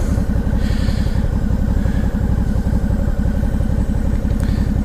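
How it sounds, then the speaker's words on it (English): Idling motorcycle engine at a car show in Kings Mountain, steady and loud with a rapid, lumpy put-put pulse throughout and a clattery mechanical edge. "I got a motorcycle"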